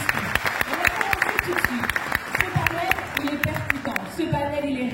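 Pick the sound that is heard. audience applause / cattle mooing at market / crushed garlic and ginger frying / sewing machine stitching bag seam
audience applause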